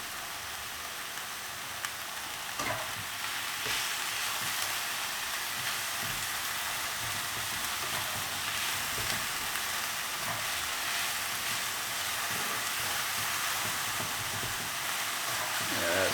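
Pancakes sizzle steadily as they brown in a frying pan, a close, even crackling hiss that continues without a break and with no talking.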